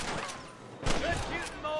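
Bursts of gunfire crackle in a Western shootout in the video game Red Dead Redemption, with a louder volley midway over a steady background din and a voice speaking.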